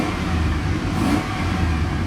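Engine of a 2004 Chevrolet Express 3500 cargo van with 81,000 miles revving steadily, a loud, continuous low rumble heard up close with no talking.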